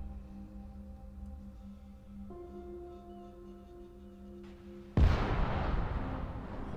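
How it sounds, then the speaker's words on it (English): In the video game ARMA 3 with the Exile mod, a loud explosion suddenly bursts after a stretch of quiet humming engine drone, followed by a heavy rumbling roar that lingers and slowly fades. "That explosion was insane."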